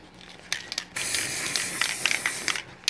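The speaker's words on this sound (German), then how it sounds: "das ist der Sprühkleber vom Action. Den werde ich jetzt benutzen. Werde hier einmal sprühen" Spray adhesive hisses out of an aerosol can in a short burst followed by a longer sustained spray lasting nearly two seconds, close and fairly loud, with no talking.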